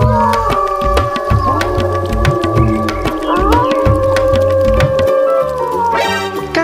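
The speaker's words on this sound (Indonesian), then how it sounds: "Ini serigala dan suaranya." A toy wolf gives off a loud electronic howl with gliding tones, layered over bouncy toy music with a steady beat.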